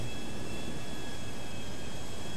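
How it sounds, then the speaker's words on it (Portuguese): A helicopter in GTA 5 Online gives a steady, dense engine and rotor roar that holds at constant loudness throughout with no talk over it. "Olha ali o helicóptero."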